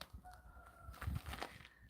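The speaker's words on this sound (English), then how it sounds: "I don't know if you all can hear the roosters." Roosters crowing somewhere in the countryside near Gyeongju, a drawn-out call rising faintly over low background noise and rustling, fairly distant and a little thin.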